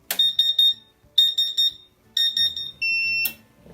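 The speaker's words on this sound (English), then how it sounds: "So now when I turn it on, it'll have the alarm for just a few seconds" A laser cutter's water chiller gives its startup alarm: three bursts of rapid high-pitched beeping, then a steady tone that shifts pitch before cutting off, loud and close with no talk.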